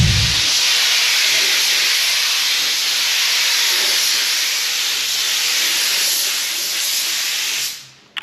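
Spray gun laying a light first coat of matt clear coat in a DIY home spray booth, giving a steady, loud, close hiss of atomised paint that runs unbroken for several seconds, then cuts off.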